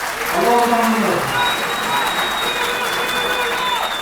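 A crowd at a political rally where mayoral candidates are introduced cheers and applauds in a broad, sustained roar, with chanting voices rising early on and a speaker's voice over the noise.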